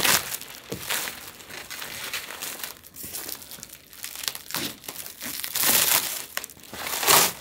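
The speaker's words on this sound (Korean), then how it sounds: "자, 비닐을 뜯어볼게요." Plastic wrap is torn and crinkled off a Universal Audio Apollo X6 audio interface during unboxing, with loud, close crackling bursts that come in uneven waves.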